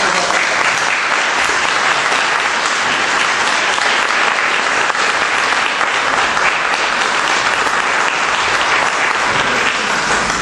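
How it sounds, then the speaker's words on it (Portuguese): Dense, loud, continuous applause from a large audience at a Lusophone citizenship congress, a steady roar of clapping that holds at full strength for the whole stretch without letup. "para eles peço uma salva de palmas"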